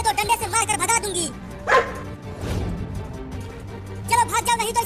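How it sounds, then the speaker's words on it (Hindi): Dogs barking nearby, loud and repeated in short bursts, with a whimpering yip in between, mixed with raised voices. "वो कुत्ता फिर से आ रहा है और देखो वो एक और कुत्ता को भी लेकर आ रहा है"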